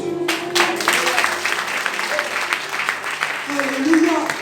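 A church congregation claps and acclaims Jesus in praise, a dense wash of applause and cheering voices that swells and recedes, with a few sustained tones rising above the crowd.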